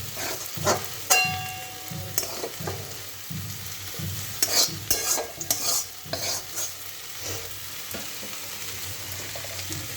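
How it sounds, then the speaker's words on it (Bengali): Potatoes are lightly fried in a pan with continuous sizzling, while a spatula stirs and clinks against the metal in irregular bursts, close and moderately loud. "আলুটা ভেজে হালকা ভেজে উঠিয়ে রেখে দিচ্ছি"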